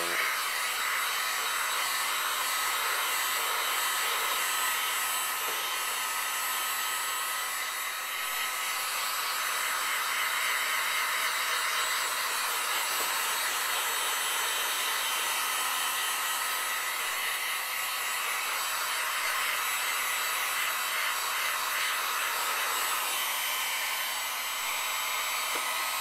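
Heat gun blowing on a PS3 circuit board, a constant whirring fan and airflow hiss held at an even level for the whole stretch, with no talking.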